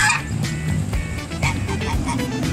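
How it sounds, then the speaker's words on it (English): Several geese honk repeatedly nearby in an irregular series of sharp calls, with outdoor background noise and some voices mixed in. "There's a bunch of geese coming."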